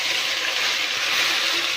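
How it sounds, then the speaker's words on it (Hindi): Water poured into a hot pan of cooking garlic-ginger paste, a steady broad rushing hiss with sizzle that holds at an even loudness throughout, alone without talk. "इसमें थोड़ा सा पानी शामिल करूँगी ताकि जो हमारा लहसुन है वो जल ना जाए।"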